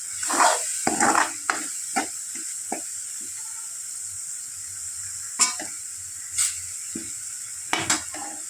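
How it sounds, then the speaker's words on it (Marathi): Irregular spoon scrapes and clinks in a pan over a faint, steady sizzle of frying oil, as a moth bean dal mixture is sautéed. "थोडं परतून देऊ याला जरा तेल सुटेपर्यंत"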